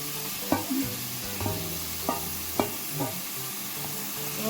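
Chicken pieces fry in butter in a pan, with a gentle steady sizzle broken by evenly spaced scraping strokes of a spatula, five or six in a row, and no talking.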